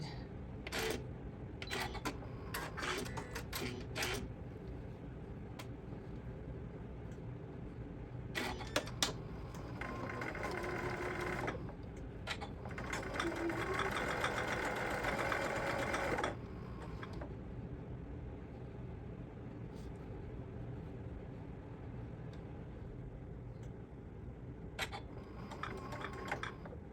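A sewing machine runs with a busy mechanical rattle and clicking, steady and close, with a louder stretch of whirring in the middle.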